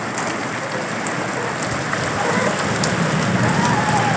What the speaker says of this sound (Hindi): ये देखें बहुत तेज बारिश है